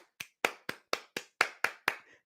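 Eight sharp hand claps in a steady, slightly slowing rhythm, close and fairly quiet, performed as a slow celebratory clap during a live reaction to an NFL playoff game between the Cowboys and 49ers.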